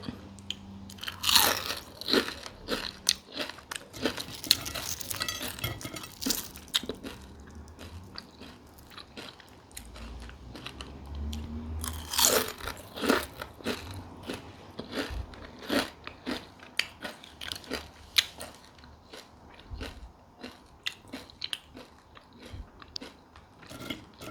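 Batter-fried small crabs crunched and chewed up close, with repeated crisp bites and bursts of crackling through the stretch, loud at first and then steadier chewing.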